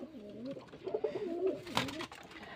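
Soft, throaty cooing of Giribaj pigeons at a pigeon farm rolls on continuously, several overlapping coos at close range with a faint rustle near the end.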